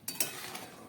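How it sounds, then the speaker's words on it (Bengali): A lid lifted off a pot of cooked urad dal, giving two quick metallic clinks close by followed by a soft settling rattle, with no talking. "এবার ঢাকাটা খুলে দিচ্ছি"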